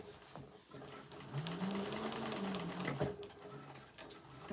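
Sewing machine stitching a seam on a Betty Bowler bag, a steady close whirring hum with a slight rise and fall in speed, running continuously with soft mechanical clatter.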